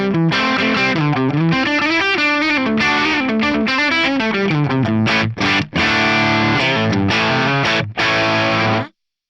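A crunchy, overdriven electric guitar through a Marshall JTM45 amp capture plays chords and riffs with a few short pauses, ending abruptly in silence.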